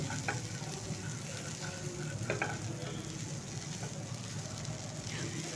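Drumstick stalks and neem leaves with mustard-seed tempering and chopped green chillies sizzle steadily in a pan, with a few sharp stirring clinks and scrapes over the constant frying hiss.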